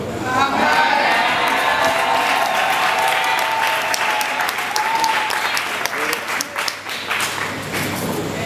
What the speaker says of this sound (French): Est-ce qu'on peut encore applaudir très fort le Seigneur?